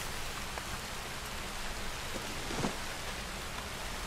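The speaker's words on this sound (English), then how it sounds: "Does it just always rain around his tower or something?" Steady, dense rainfall in Red Dead Redemption 2 hisses evenly throughout, with a faint brief thump partway through; no voices.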